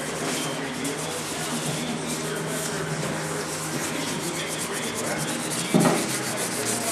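A door being sanded by hand with sandpaper gives a steady, close rasping scrape that runs throughout, with a brief louder knock near the end.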